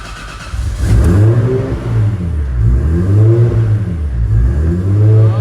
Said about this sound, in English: All right, let's fire it up. No throttle, just turning the key.